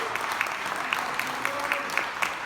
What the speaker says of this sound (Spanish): Den un aplauso fuerte al Rey.